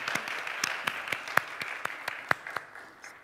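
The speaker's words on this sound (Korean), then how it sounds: "박수로 여러분 축복해 주시면 좋겠습니다" Congregation at a Sunday church service claps in blessing, a sparse set of distinct hand claps at uneven intervals, a few sharper and louder, over a quiet room.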